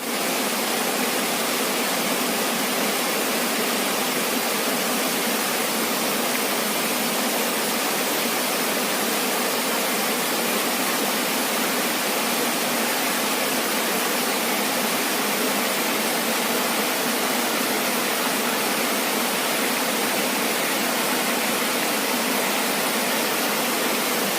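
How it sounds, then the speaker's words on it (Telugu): Floodwater pours through narrow village lanes near the Akunoor waterfall, a loud, steady broadband rush with no breaks, continuous and close for the whole stretch. "చూడండి సందులకెళ్ళి వస్తున్నాయి వాటర్."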